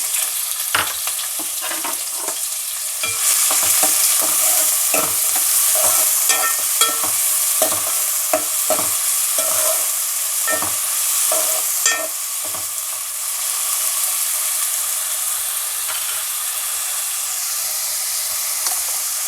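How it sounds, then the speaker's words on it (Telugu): Onions and green chillies sizzle in hot oil in a pan for an Andhra-style fish pulusu, with a steady loud hiss and repeated scraping strokes of a spoon stirring, and no talking. "ఉల్లిపాయలు పచ్చిమిరపకాయలు వేస్తున్నానండి"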